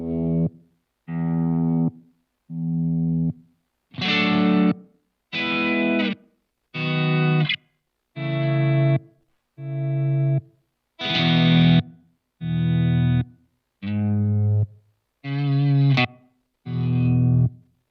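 Guitar played through a Dreadbox tremolo pedal with LFO reset on, thirteen evenly spaced chords or notes that each swell and chop off, distorted and effect-laden, alone without talk.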